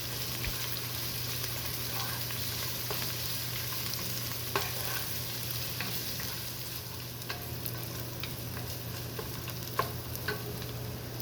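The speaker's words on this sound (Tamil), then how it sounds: "இப்போ வெங்காயம் பச்சை மிளகாய் ரெண்டையும் சேர்த்து ஒரு 6-7 நிமிஷம் வதக்கிக்கலாம்." Onions and green chillies sautéing in a pan for beetroot pulao, a continuous soft sizzle with occasional light ticks of a spatula against the pan and a faint steady hum beneath.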